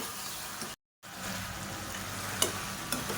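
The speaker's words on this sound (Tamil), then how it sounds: "சேர்த்துட்டு இது எல்லாத்தையுமே நல்லா வதக்கிக்கலாம்." Vegetables and sliced tomatoes sauté in hot oil in a pan for biryani, giving a close, continuous sizzle. Occasional stirring scrapes cut through it, and the sound drops out for a brief gap.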